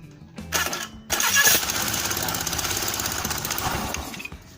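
A Honda Beat scooter engine cranks with a short starter burst, then catches and settles into a steady, close, rattling idle that runs to the end.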